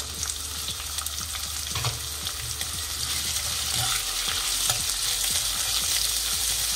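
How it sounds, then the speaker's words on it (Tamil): Sliced medium onions sauté in hot oil for beetroot biryani, a steady close sizzle and fry with stirring scrapes throughout, no voices. "அதை போட்டு நல்லா வதக்க போகிறோம்."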